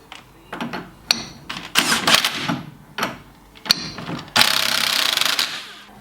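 A bolt coated in copper slip is tightened on the front end of a Sapphire RS Cosworth, close ratchet clicks and metallic clunks in short bursts, ending in a longer, louder rasping run.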